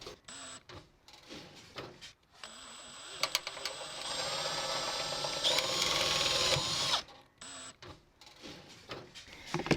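Power driver sinking sheet metal screws into the corners of wildfire defense mesh on a dormer roof vent, a whining motor burst of a few seconds with clicks and short taps before and after.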